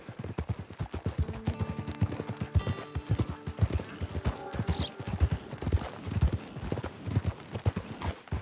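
Horse hooves in the video game Red Dead Redemption 2 clop in a steady, rhythmic gait close by, with faint background sounds beneath.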